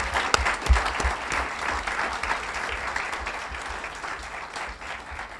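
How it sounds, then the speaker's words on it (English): A large audience applauds Hall of Fame inductees at an athletics induction ceremony, producing a continuous wash of clapping with a few sharp individual claps near the start, gradually thinning toward the close. "Let's give another round of applause for all of our Hall of Fame inductees."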